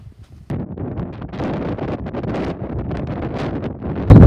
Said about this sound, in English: Windy, as you can hear.